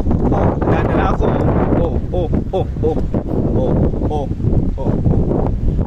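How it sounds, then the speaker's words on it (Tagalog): Strong typhoon wind in Naga City roars and buffets the microphone continuously while a person talks loudly over it. "At napakalakas po na hangin dito sa Naga City po."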